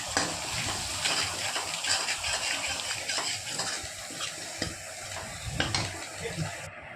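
Tomato with salt, turmeric and chili powder stir-fried in a pan for a fish curry, a steady sizzle broken by irregular scrapes and light utensil clinks, moderately quiet and without speech.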